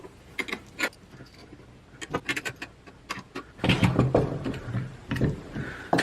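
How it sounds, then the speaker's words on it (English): A woodworking clamp is cranked tight across a glued wooden joint, giving a run of short creaks and ratcheting clicks in uneven bursts, followed by a denser rustle and thump of handling close by. "now I can clamp it in the middle"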